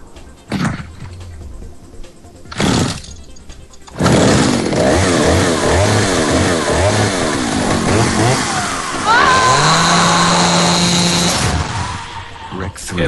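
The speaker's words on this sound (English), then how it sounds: "It's a chainsaw." A chainsaw engine revs loudly and steadily for several seconds, its pitch rising and falling, with brief bursts of engine noise and voices before it.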